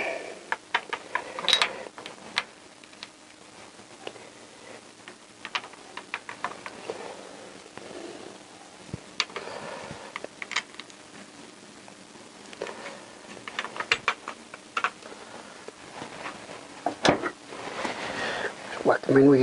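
A 10mm socket ratchets bolts tight on a CBR1000F motorcycle during engine reassembly, soft repeated clicking and metallic taps at close range with light background clatter.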